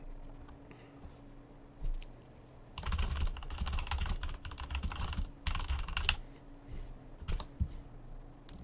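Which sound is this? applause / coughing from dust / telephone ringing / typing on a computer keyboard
typing on a computer keyboard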